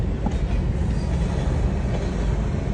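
A long train rolls by at a closed level crossing with a steady, heavy rumble and low rattling that continues without pause.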